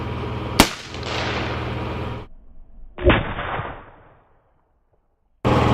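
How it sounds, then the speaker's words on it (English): AR-15 rifle rounds striking a cast iron pan outdoors: two loud, sharp gunshot cracks about two and a half seconds apart, each followed by a ringing, decaying tail, then silence before another burst begins. "So it did ricochet the AR-15 bullet."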